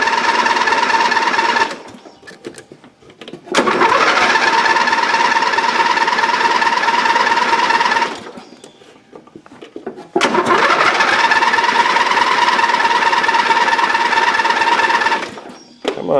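A Dynamark mower's small engine cranks, catches and runs in loud, fast-pulsing bursts, cutting out between two long runs, close up with no talk.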